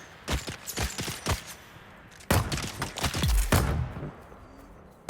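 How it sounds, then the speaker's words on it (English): A portable cannon fires in Dune: Awakening, a burst of sharp, booming shots in quick clusters followed by a longer heavy volley with thudding impacts, loud and near, with no talking. "You're no match for my portable cannon."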